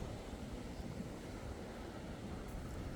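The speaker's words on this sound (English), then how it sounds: "Look at the waves." Ocean waves wash steadily onto a beach in a broad, continuous roar of surf, with wind buffeting the microphone throughout and no single wave break standing out.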